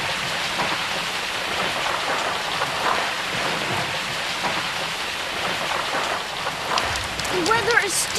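Steady heavy rain pours down in a thunderstorm, with low rumbles of thunder rolling beneath the constant hiss of the downpour throughout.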